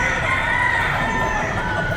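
Chickens and a rooster at a poultry market in Batangas cluck and call continuously, a busy close chorus of fowl with no talk.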